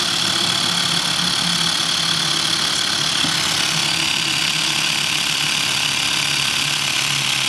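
Electric air pump inflating the tyre of a Vespa GTS 300 scooter, giving a continuous close motor drone with a steady buzzing hum throughout, no talking.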